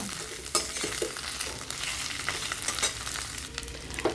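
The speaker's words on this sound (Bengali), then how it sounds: "এবার আলু আর কলার মশলা দিয়ে আর একটু নাড়াচাড়া করে সব কিছু দিয়ে সুন্দরভাবে মাখিয়ে নেব বা ভেজে নেব বা কষিয়ে নেব।" Potatoes and banana frying with spices in a pan, a steady crackling sizzle broken by scraping stir strokes and occasional sharp clanks of the spoon, close and loud with no talking.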